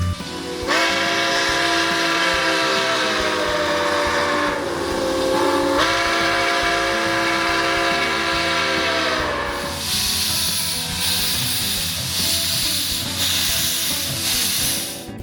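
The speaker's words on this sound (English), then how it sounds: "So you just experienced the train leaving the station." Nickel Plate Road 765 steam locomotive sounds a long, loud, sustained whistle near at hand while departing the station, with steam hiss and rail noise continuing throughout.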